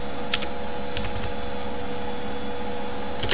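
A few sparse keystrokes typing the imshow command on a computer keyboard, faint clicks spread across a few seconds over a steady electrical hum.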